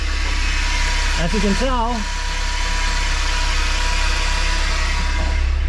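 A BMW E36 sits at idle with a steady, even low engine hum running throughout, while someone speaks briefly over it near the start.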